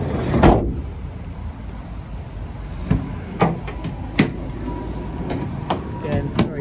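The metal side loading door of a 2016 Renault Kangoo Business+ van is worked, giving a series of sharp clunks and knocks spaced a second or so apart over a quiet background hiss.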